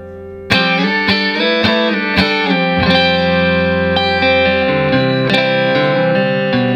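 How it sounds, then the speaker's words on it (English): Electric Stratocaster-style guitar on the neck pickup with tone up full, played straight into an amp with a clean boost pedal engaged: a loud, sustained run of picked notes and chords with a thick, slightly driven tone. "Now let's add the clean boost in."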